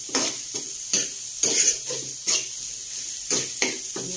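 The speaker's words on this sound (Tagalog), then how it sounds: "Igigisa po natin yung laman loob ng tuna." Tuna innards sautéing in a pan, a bright hissing sizzle punctuated by a regular series of loud stirring scrapes and utensil strikes, roughly one every half second, close and prominent.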